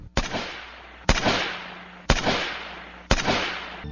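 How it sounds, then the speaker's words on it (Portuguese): Four evenly spaced gunshots ring out in a Portuguese audio drama, each a sharp, loud crack with a short echoing tail, fired about one second apart. "Os tiros, porém, não o acertam."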